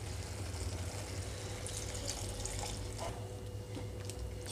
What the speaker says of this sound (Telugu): ఇంకొక హాఫ్ కప్ వాటర్ అయితే వేస్తున్నానండి